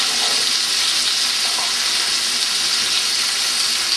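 Thick chicken breasts seasoned with salt and pepper fry in a pan, a loud, dense, steady sizzle that holds evenly throughout without any voices.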